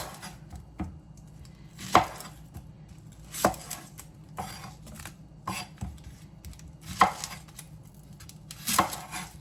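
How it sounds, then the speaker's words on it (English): Onions are rough-chopped with a sharp knife on a cutting board, giving distinct, sparse thuds at irregular intervals, close and fairly quiet with no talking. "We're gonna get a rough chop on our onions."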